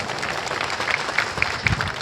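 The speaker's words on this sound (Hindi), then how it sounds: "जरा तालियां बजाकर उस टीम का भी स्वागत करें।" A crowd at a Home Guard foundation day parade in Indore claps to welcome a civil defence team. Brisk, continuous applause sounds fairly close and carries on for the full two seconds.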